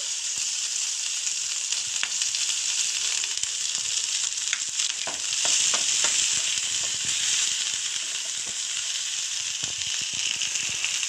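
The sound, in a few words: ginger, garlic and chili paste frying in fish oil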